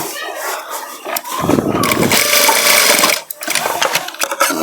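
An electric sewing machine stitches the back pocket onto a pair of trousers, loud and close in a continuous whirring run that pauses briefly, with a voice talking faintly underneath.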